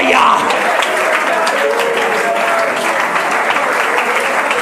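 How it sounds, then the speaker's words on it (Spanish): Applause from a church congregation during a Spanish-language sermon, a dense steady clatter of many hands that carries on throughout at full strength, with some speech-like sound faintly underneath. "alguien lo está aplaudiendo"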